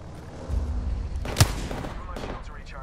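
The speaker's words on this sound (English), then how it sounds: "Stop shooting at me, Bloodhound." Gunfire sounds in an Apex Legends-style shooter, with rumbling game audio building to a single sharp, loud shot near the middle, followed by fainter action noise.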